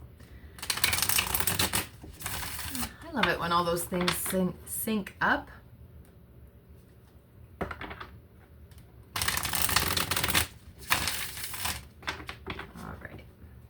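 A deck of oracle cards shuffled by hand in several rapid riffling bursts, crisp and close, separated by pauses in which someone speaks briefly.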